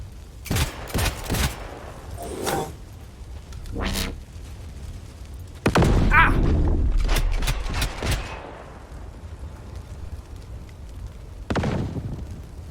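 Turret gunfire in Cyberpunk 2077 on the Switch 2: sharp, loud shots that crack out in scattered bursts, with a denser, heavier volley in the middle and a final isolated shot near the end.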